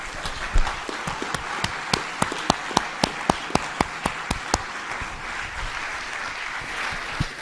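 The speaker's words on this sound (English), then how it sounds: "I really would like to ask you to give a big applause to the" Scattered, fairly steady claps ring out over a low crowd murmur, a modest round of applause for five panelists at an international environment conference in Rome, thinning out toward the end.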